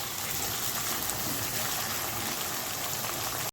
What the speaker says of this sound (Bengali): এখন একটু লাল করে ভাজা নিব পেঁয়াজটা